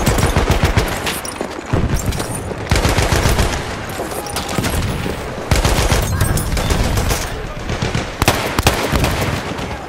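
Loud, sustained automatic machine gun fire from the Battlefield 1 video game in a forest, dense rapid bursts running nearly continuously with brief gaps and layered shots close by.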